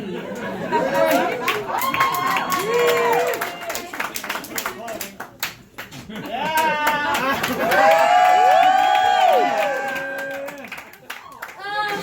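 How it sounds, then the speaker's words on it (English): Live comedy audience applauding and cheering in two swelling waves, with clapping and crowd chatter filling the room, loud and close, dipping briefly between bursts. "Pause for applause."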